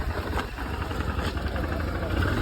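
A motorbike engine idles nearby during a ride to a waterfall, a steady, loud, low rumble with a continuous putter and no break.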